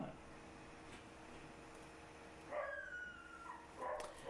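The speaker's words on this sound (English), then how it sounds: "That is the puppy barking at somebody." A puppy barks far off in Nicaragua, two short, faint bursts of yips rising above a steady low outdoor hum, with no one talking.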